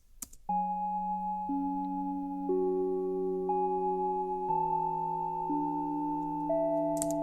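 A simple synthesizer melody of sustained, pure electronic tones stepping between notes in a slow sequence, clean and alone.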